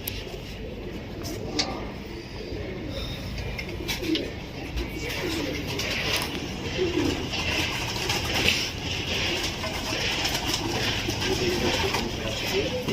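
Soft, repeated cooing of several white Punjabi pigeons close by in a loft, low throaty calls overlapping over a steady background hum, with faint rustling.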